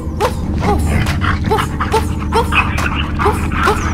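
A cartoon dog in the nursery rhyme Wheels on the Bus gives a quick run of rhythmic woofs over a bouncy children's music backing; the barks may be a voice imitating a dog.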